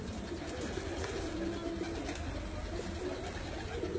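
Soft, low cooing of pigeons blends into a constant background hum of outdoor noise, faint and steady.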